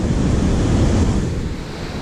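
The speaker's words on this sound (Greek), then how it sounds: "και να αποφύγω τα κύματα" Rough sea waves surge and break along a rocky fishing shore in about force 6 wind, a loud, close, continuous roar of surf mixed with buffeting wind noise and no talking.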